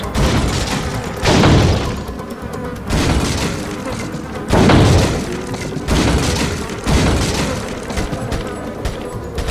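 Gunshots in Resident Evil 4, heavy booming shots spaced a couple of seconds apart, loud and close, each with a short ringing tail over game ambience.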